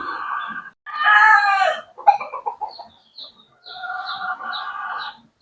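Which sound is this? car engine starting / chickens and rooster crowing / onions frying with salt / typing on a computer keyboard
chickens and rooster crowing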